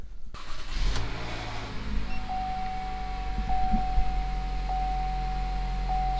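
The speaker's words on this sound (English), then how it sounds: "I know I can safely start the car" A 2.5 liter Chevy Malibu engine cranks and catches, then settles into a steady idle with a faint high whine from the car, heard close and without talk.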